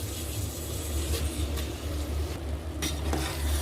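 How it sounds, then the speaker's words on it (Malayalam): Basmati rice and masala are stirred together in a pot, giving a close, continuous scraping and soft sizzle with no talking. "നമ്മളിത് നല്ലപോലെ ഒന്ന് മിക്സ് ചെയ്ത് കൊടുക്കുകയാണ് ഇപ്പം, റൈസും മസാലയൊക്കെ"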